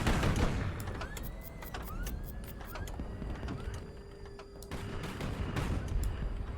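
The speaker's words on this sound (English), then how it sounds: "Your ammo's exploding." Ammunition aboard a ship in HighFleet cooks off as a rapid, irregular string of sharp crackling pops with rising whines, all over a steady mechanical drone.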